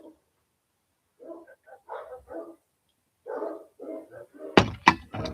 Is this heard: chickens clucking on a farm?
no